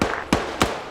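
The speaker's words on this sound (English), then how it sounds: "tank cannon fire southeast" Tank cannon fire in a military video game set in a Taliban opium operation: two sharp, distant booms about a third of a second apart over steady background rumble, with no talk.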